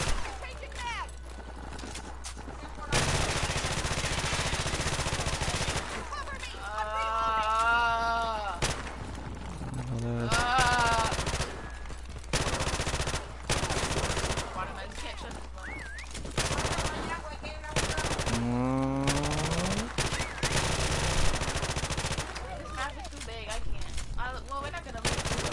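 Call of Duty gunfire cuts in as repeated loud bursts and volleys across the stretch, alternating with quieter gaps where game voices and tonal effects come through.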